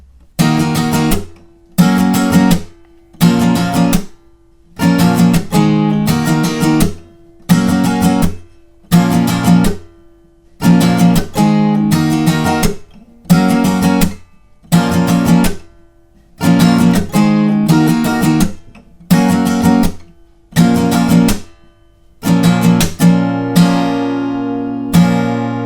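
Acoustic guitar strummed in a steady rhythmic pattern through the second verse of a song, loud and close, with regular bursts of chords separated by brief gaps.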